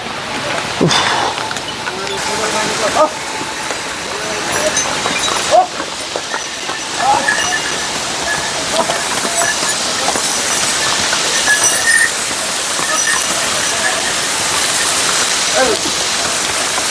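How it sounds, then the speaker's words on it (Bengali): A mountain waterfall on the Kedarnath trek rushes as a loud, continuous broadband roar that fills the whole scene, with occasional voices of trekkers faintly audible beneath the water. "একদম ঝর্ণার কাছে চলে এসেছি।"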